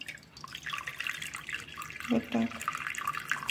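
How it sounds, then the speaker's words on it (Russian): Hot water splashes and trickles into a pot while dolma is being prepared, an irregular pouring wash under a brief spoken remark. "Сюда мы наливаем воду. У меня горячая вода."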